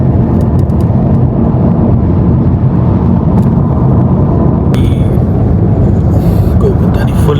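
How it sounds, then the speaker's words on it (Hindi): A car travels along a road, loud continuous engine and tyre rumble filling the cabin throughout, with a few faint scattered knocks and no clear talk. "कोई पता नहीं गाड़ी जा किधर ही है, बस रास्ते पे जा रही है।"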